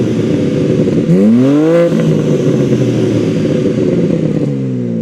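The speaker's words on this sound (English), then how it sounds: "take a listen to the exhaust on that versus this Z4" Exhaust of a BMW M4 Competition Cabriolet revving once, rising and falling around a steady loud engine drone, heard close with no talking.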